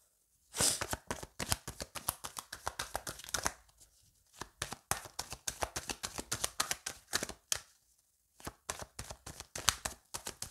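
Tarot cards are shuffled by hand in a steady run of quick, crisp riffling and slapping bursts, close and fairly faint, with two short pauses between the passes and no talking.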